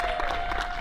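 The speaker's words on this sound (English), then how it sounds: "another round of applause for Yurika Chiba" Audience applause at a live taiko performance and workshop grand opening, a steady wash of clapping hands held at an even level through the whole short stretch, with no voices over it.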